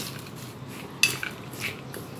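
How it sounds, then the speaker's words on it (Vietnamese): A dried fish and pork mixture is stirred in a bowl, with quiet clinks and one sharp metallic tap of a utensil against the dish over a soft background hiss, and no voices. "bây giờ mình sẽ trộn cái hỗn hợp này lên nha các bạn"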